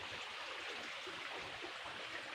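A forest waterfall running low after the water has receded gives a steady, soft rushing hiss of falling water, continuous and fairly distant, with no voices.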